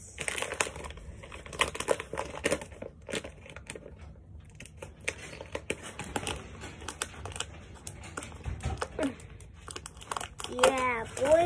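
Plastic packaging around a burrito blanket crinkles and rustles in scattered bursts while someone handles and cuts it open, with brief speech in between.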